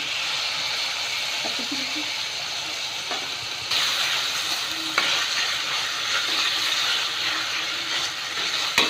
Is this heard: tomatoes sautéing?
yes